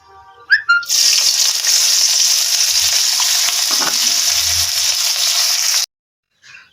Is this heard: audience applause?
no